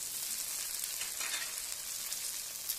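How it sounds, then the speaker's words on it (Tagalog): Egg frying in a hot wok while char kway teow, flat rice noodles, is cooked; a steady bright sizzle runs close and loud throughout, with a slight surge midway. "Lagyan natin na ng itlog."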